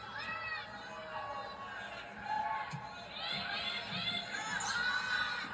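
Crowd of basketball fans in an arena in Savannah for a matchup between two top SEC teams, one of them Kentucky, with steady cheering and shouting swelling in waves, voices and whoops over a continuous roar.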